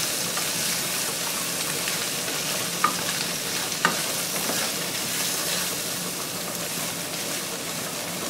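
Meat and onions cook in a pot with a little olive oil. A soft, steady sizzle and frying hiss runs throughout, with two faint clicks of a spoon stirring partway through.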